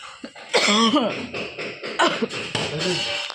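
A few harsh coughs break out between stretches of a person talking, close and fairly loud.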